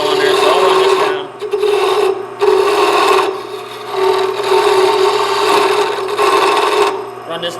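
A carbon-tipped call striker is being shaped round with a rasping, filing stroke that repeats in several long bursts separated by short pauses, close and fairly loud.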